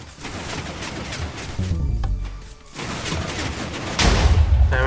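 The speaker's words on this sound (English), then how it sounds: "There we go, cannon launched." Cannon firing in the Minecraft video game during a zombie siege at night, a burst of booming blasts and thuds, with a heavier explosion near the end.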